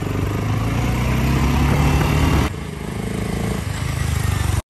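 A BSA Gold Star 650 motorcycle engine runs steadily up close, a loud, even idle-to-revving drone that drops to a slightly lower, rougher throb partway through before cutting off abruptly at the end.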